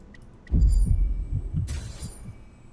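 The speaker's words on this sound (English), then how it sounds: "I heard the heartbeat and everything." A heartbeat sound effect from a video game thumps in loud, low, deep pulses, about five or six beats that fade gradually.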